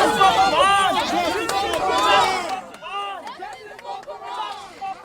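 A crowd of protesters marching outside the 4th District Police Station in Washington, D.C., chants a short slogan in loud repeated unison, several voices overlapping in a rhythmic call.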